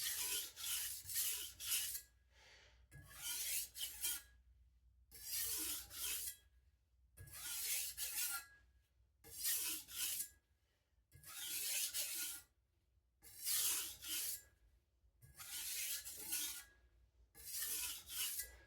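A hard MagnaCut steel knife sharpened on a coarse stone, about ten rhythmic rasping strokes, each a gritty close scrape separated by brief silences, with no talking.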